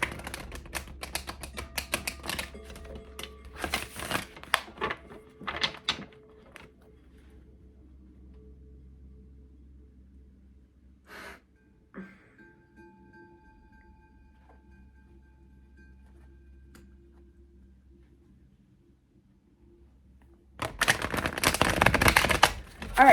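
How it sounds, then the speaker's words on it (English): Tarot cards being shuffled by hand: bursts of rapid, crisp papery clicking and riffling at the start and again at the end, with a quieter stretch of faint handling in between. "I'm going to shuffle. I'm going to shuffle, but then I'm going to shuffle out the cards."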